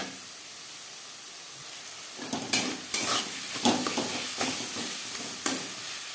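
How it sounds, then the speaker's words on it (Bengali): Tomato and chilli with salt and turmeric stirred in a hot pan, a soft steady sizzle that gives way to repeated scraping stirring strokes at a regular rhythm, close and alone without speech. "টমেটো লঙ্কার সাথে লবণ হলুদ বেশ ভালো করে মিক্স করে দেব"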